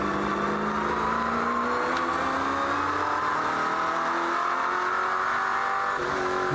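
V8 race cars roar past one after another on a wet track, engine notes rising and falling over a steady hiss of spray, loud and continuous.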